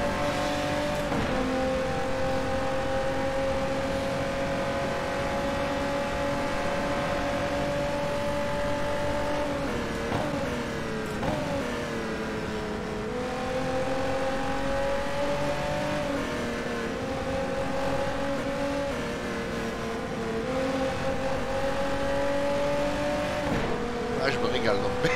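Ferrari 512 S race car engine in the rFactor 2 racing game wails at high revs, dipping under braking and climbing again through gears, loud and continuous with someone talking over it.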